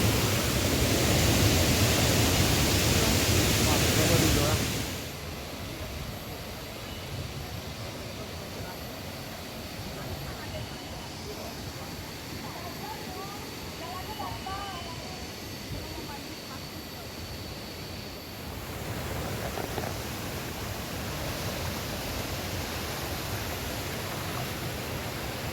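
Lubuk Udang waterfall in West Sumatra roars as a steady broadband rush throughout, loudest at the start and end, with a faint voice in the middle.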